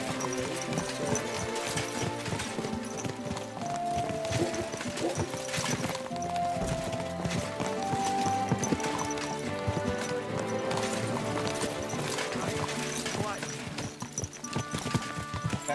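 Steady clip-clop of horse hooves in Kingdom Come: Deliverance II, under music and voices, with a horse whinnying briefly.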